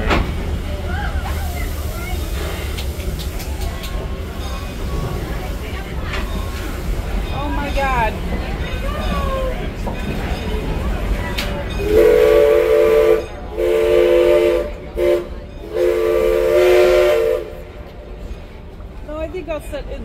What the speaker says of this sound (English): Must have finally got enough steam built up.